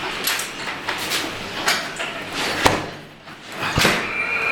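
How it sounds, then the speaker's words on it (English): A front door opening onto a Chicago blizzard: a couple of sharp knocks and clicks over a steady roar of howling wind and blowing snow, loud and close. "I'm walking out my front door right now."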